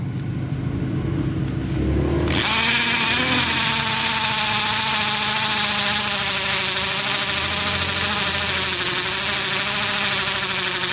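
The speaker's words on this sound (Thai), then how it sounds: "ถ้าเจาะปูนมาเสียงมันจะดังอย่างนี้" A Ryobi cordless drill grinds loudly and continuously into concrete, starting with a sudden burst after a quieter engine-like hum, harsh and close throughout.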